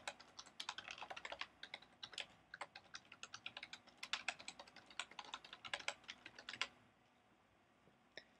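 Rapid, fairly quiet clicking of keys on a computer keyboard as a website URL is typed, an irregular run of taps for about six seconds before it falls silent.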